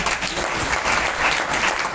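An audience of children at a revival meeting in Nakodar, Punjab claps loudly and continuously in a dense burst of applause that fills the moment without letting up.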